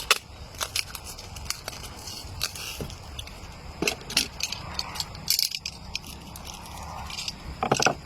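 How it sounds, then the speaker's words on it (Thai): Adhesive tape being pulled and wrapped tightly around edges to seal a propagation container for lime and kaffir lime cuttings, with repeated crackly tearing and rustling bursts close to the microphone. "ปิดขอบด้วยเทปกาวนะครับ"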